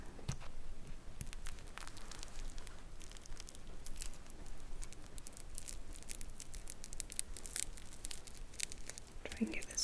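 Plastic protective film peeled slowly off magnetic jewelry, a soft continuous crinkling and tearing rustle close to the microphone, with a few light taps and no spoken words.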